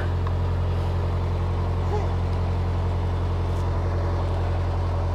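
A narrowboat engine on a canal ticks over at about 1200 RPM, a steady, close low diesel rumble with a constant pulse throughout, faint voices beneath it.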